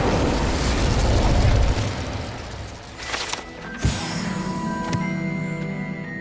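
An Incendio fire spell blast in Hogwarts Legacy erupts as a loud roaring rush, followed by sharp crackling pops and lingering ringing magical tones.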